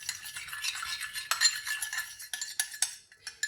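A spoon mixing onion and honey in a bowl: quick, close scraping and light clinks against the sides, irregular strokes that fade toward the end.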